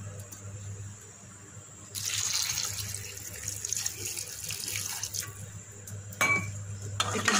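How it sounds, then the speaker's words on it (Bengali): Water poured into a pot of potatoes and bitter gourd for boiling, a steady splashing stream starting after a quiet moment, with clinks of the pot and utensils near the end; no talking. "এখন এটাকে সিদ্ধ হওয়ার জন্য পানি দিয়ে দেবো।"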